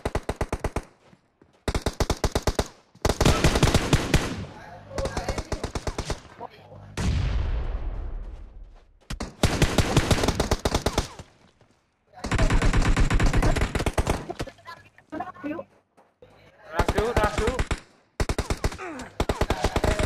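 Machine gun fire from the mobile battle royale game PUBG Mobile rattles in loud, close, rapid bursts separated by short pauses, with one descending whoosh partway through and no one speaking.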